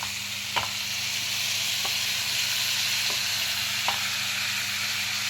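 Tomatoes for a curry sizzle in a pan, a steady close hiss with a few faint clicks of a spoon stirring at intervals.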